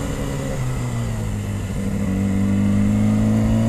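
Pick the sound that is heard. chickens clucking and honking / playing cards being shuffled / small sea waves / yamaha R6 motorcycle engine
yamaha R6 motorcycle engine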